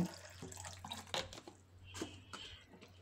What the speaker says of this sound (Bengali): সাবুটা আমি জল পাল্টে পাল্টে ভালোভাবে পরিষ্কার করে ধুয়ে নেব।